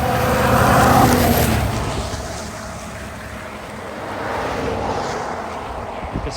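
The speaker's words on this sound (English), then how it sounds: "There's a big truck coming." A big truck rumbles past outdoors in snowy weather near a cabin, a broad steady roar that swells, fades slightly, then rises again as it passes.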